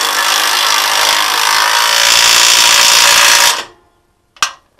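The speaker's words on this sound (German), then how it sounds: "Einwandfrei so ein Schlagschrauber" A pneumatic impact wrench tightens bolts on the turntable of a two-sided tipper trailer being assembled. One loud, steady, rattling run lasts about three and a half seconds and cuts off abruptly, followed by a short final burst.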